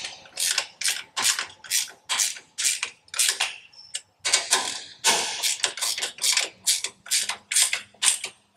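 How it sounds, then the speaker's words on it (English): A 1/2-inch ratcheting wrench tightens nuts on the back of a front bumper oversize-load sign mount bracket on a GMC, giving rapid repeated bursts of close, crisp ratchet clicks in steady strokes with brief pauses. "we wanna tighten these nuts on the back of the bracket"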